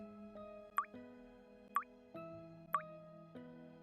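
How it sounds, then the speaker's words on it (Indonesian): Water drips slowly and steadily, each drop a clear plop spaced about a second apart, over a faint low hum in an otherwise quiet space. "Dia dengar suara air netes."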